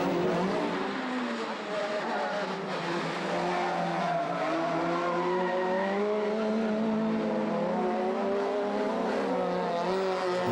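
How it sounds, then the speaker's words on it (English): Front-wheel-drive rallycross cars race on a muddy track, engines droning and revving continuously with rising and falling pitch, loud and steady throughout. "the Joker lap is still very muddy, very difficult to find some traction with these front wheel drive cars"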